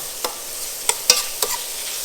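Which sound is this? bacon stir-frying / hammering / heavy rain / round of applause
bacon stir-frying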